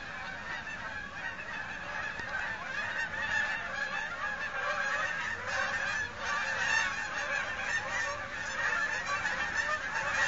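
A flock of geese passing over a house in Merrill, Wisconsin, a continuous dense chorus of many overlapping honks at steady moderate loudness throughout.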